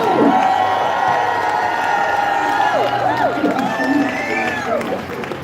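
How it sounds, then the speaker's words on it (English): A rally crowd in Philadelphia cheers and whoops loudly, with shouts and scattered applause rising and falling under a speaking voice. "get your signs up, give a cheer for Councilmember"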